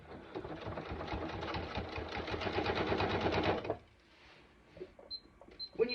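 A sewing machine stitches zipper panels for a backpack, a steady fast rattling hum that runs for several seconds, then stops abruptly, leaving quiet handling clicks.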